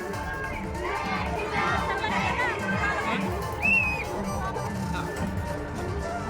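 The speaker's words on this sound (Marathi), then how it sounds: "जिजाऊंना अभिवादन करण्यासाठी मोठी गर्दी त्या ठिकाणी बघायला मिळते" A large crowd gathered at Sindkhed Raja in Buldhana to pay tribute to Jijau at her birth anniversary celebration, a continuous dense babble of voices with children shouting and calling throughout.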